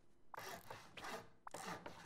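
Hammer strikes upgrading a floor in the survival video game Rust, about three scraping, chopping hits spaced roughly half a second to a second apart, close and fairly quiet, with no talk.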